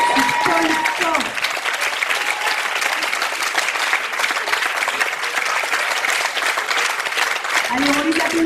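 Sustained applause from an audience at an evening poetry festival prize ceremony in a school setting, dense and steady throughout, with a voice briefly heard at the start and end over the clapping.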